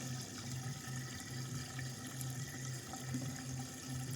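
Water runs steadily through a DIY concrete pond filter with blue drum layers and a pump, a continuous close trickle and splash over a low, even pump hum.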